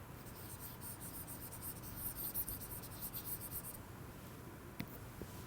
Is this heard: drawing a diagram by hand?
yes